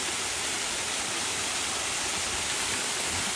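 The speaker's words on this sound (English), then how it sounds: "I think these are man-made waterfalls" Steady, loud rush of a man-made waterfall at Rainbow Springs, continuous broadband roar of falling water with no voices.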